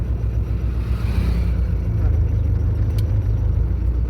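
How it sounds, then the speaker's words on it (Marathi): A manual car pulls away in first gear during a driving lesson, the clutch eased out at half clutch with light throttle. A steady, loud low engine rumble runs throughout without a break. "आता हाफ क्लच सोडायचा आहे हळूहळू आणि हलकं सिलेंडर द्यायचं आहे"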